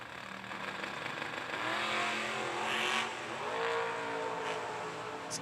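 A drag racing car launches down the strip at a motorsports event, its engine roaring loud and rising in pitch through two surging acceleration sweeps without any speech.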